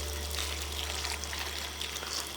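Hot water poured into a pot for cooking ekwang, a Cameroonian dish, gives a steady, continuous splashing hiss at close range with no talk over it.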